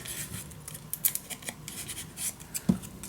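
Scissors snip paper for a scrapbook mini album, a handful of short, crisp cuts spaced unevenly, close and fairly quiet, with light handling scratches between them and no voices.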